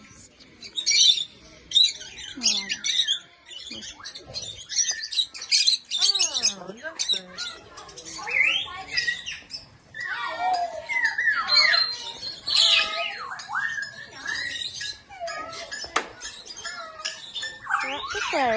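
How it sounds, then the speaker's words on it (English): Parrots at a wildlife park squawk and chirp in bursts close by, their calls overlapping, while people talk in between. "The parrots."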